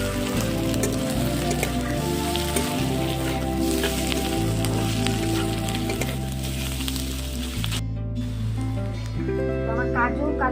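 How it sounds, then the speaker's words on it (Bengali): Cashews, whole green chillies and onion frying in oil in a pan, giving a continuous dense sizzle, close and loud, with occasional stirring clinks throughout. "আর একটু ভেজে নেব।"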